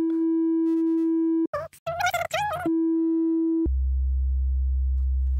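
Several pure synthesized sine tones, including a deep sub-bass tone, sound loud, clean and steady. A short burst of warbling, chirping tones falls between the steady passages.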